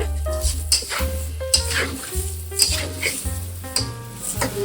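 Potatoes and grated coconut frying together in a pan on a low gas flame, soft sizzling mixed with clinks and scrapes of a spatula, over faint background music.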